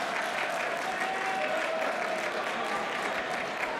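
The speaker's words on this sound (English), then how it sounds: "And the EP fans applaud" Continuous crowd applause from fans at a high school boys basketball game fills the space, dense and steady, with a faint murmur of voices mixed in.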